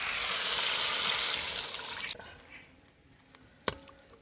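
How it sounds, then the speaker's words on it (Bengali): Water is poured into a pan of fish curry, a loud hissing splash for about two seconds that stops abruptly, followed by faint sizzling and a couple of small clinks. "জুসের জন্য অল্প একটু জল দিয়ে দিব।"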